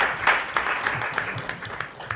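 Scattered, moderately faint applause for the Benin boxing federation at a formal gathering, with individual claps standing out unevenly over a soft background wash.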